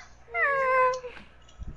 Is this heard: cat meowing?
yes